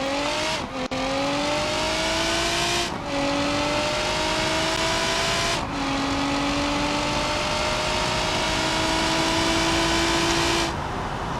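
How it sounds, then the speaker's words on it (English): A car engine in BeamNG.drive revs hard for a drag run, climbing in pitch through four distinct gear pulls with brief dips at each shift, loud and close with no talking. "So I'm going to rev again and do a run and see how it goes."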